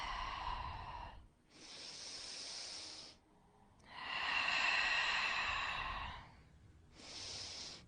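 Slow, calm breaths during a yoga pose: a long inhale, a pause, an exhale, then another deep breath in and out, soft and close with airy, hissing texture and no talking.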